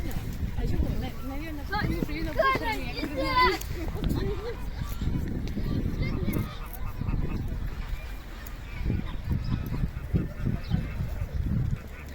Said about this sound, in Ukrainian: Ось качечки красиві.